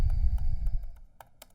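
A handful of sparse, quiet keystrokes on a computer keyboard while code is being typed, spaced irregularly over a faint low hum.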